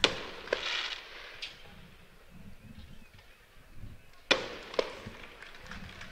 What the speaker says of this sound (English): Fireworks on and off the pitch.